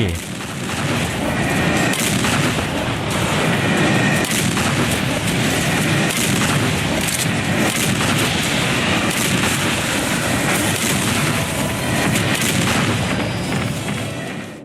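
Heavy cannon blasts from a weapon in the first-person shooter Serious Sam 4, loud booming shots in dense succession amid chaotic battle noise.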